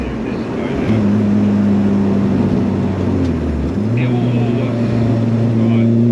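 SEAT Arosa 1.8T 20V with a big turbo accelerating, the engine droning loudly and climbing steadily in pitch, with one brief dip before it picks up again; a voice speaks over it.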